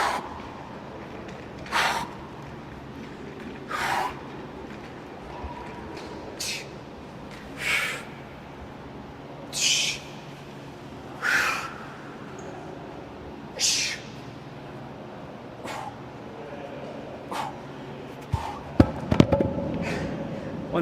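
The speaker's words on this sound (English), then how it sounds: "you can really hear that breathing" Heavy breathing during an abdominal workout, sharp forceful exhales repeating about every two seconds in a steady rhythm, close to the microphone, with a brief clatter near the end.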